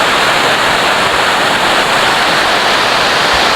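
Ice-cold glacial meltwater rushes down a mountain stream from snowfields on the peaks above, a loud, dense, unbroken roar of churning water close by with no voices.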